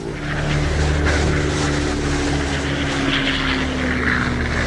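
Propeller aircraft in a WWII air war setting drone loudly and continuously, a dense, close engine roar with steady throbbing tones and no voices.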